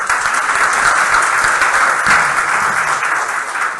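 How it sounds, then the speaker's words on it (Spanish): Loud, dense applause from a conference audience welcoming a speaker at a talk on public finances and institutional disorder, a steady roar of clapping lasting the whole clip with no talk over it. "Vamos a recibir a María Trinidad con un fuerte aplauso."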